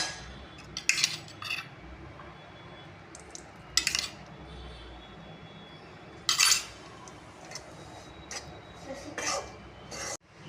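A spoon stirs gram flour (besan) as it roasts in ghee in a pan for besan ladoo. Scattered metallic clinks and scrapes of the spoon against the pan come in irregular bursts over a soft, low background hiss.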